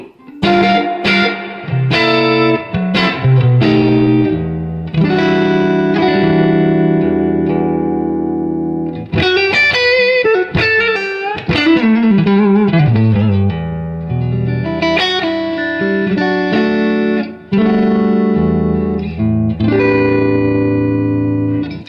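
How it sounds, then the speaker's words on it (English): Clean electric guitar, a Fender American Strat with Fat 50s custom shop pickups, through a tube amp and a vintage Boss DD-3 Digital Delay: picked chords and single notes with some reverb, loud and close, played alone with brief pauses. "This is a Fender American Strat with Fat 50s custom shop pickups."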